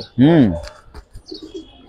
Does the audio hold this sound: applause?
no